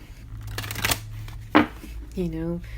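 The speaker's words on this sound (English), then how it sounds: "sometimes I shuffle all the cards in one pile" Tarot cards from a Rider-Waite-Smith deck being shuffled in a single pile, a few crisp riffling bursts close by, with a voice speaking briefly alongside.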